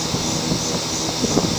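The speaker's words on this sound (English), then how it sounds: "Time to get my air gun." Pneumatic air gun spinning off the flywheel nut on a Craftsman lawn mower engine; a loud, sustained whine with rough rattling bursts near the end, close by.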